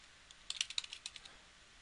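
A password typed on a computer keyboard during a Windows Server 2008 setup: a quick, quiet burst of about a dozen light key clicks, close by, with no talking.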